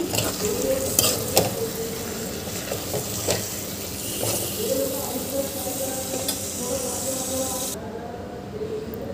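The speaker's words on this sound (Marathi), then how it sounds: "यामध्ये आपल्याला मीठ घालून घ्यायचं आहे चवीकरता आणि हे छान मिक्स करून घ्यायचं आहे" White beans curry with salt being stirred in a pan, a steady sizzle and scraping of spoon against metal running throughout, close by, ending in a sudden cut.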